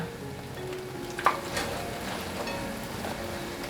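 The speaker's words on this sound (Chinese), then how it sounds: "再继续炸，都炸成金黄色了，可以关火取出。" Food deep-frying in hot oil until golden, a steady close crackling sizzle with a scatter of small pops and a brief clink, no talk.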